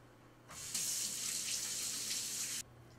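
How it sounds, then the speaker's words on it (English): Tap water runs into a kitchen sink for hand washing, switching on abruptly with a bright, steady splashing hiss for about two seconds before cutting off cleanly, with no talking. "So let me wash my hands and then we'll work with the spaghetti."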